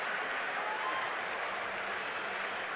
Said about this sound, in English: The official now to his feet and gets a hand from the crowd here